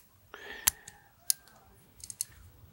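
Small shears snip juniper bonsai stems in a few crisp, quiet cuts spaced apart, sharp metallic clicks against a still background.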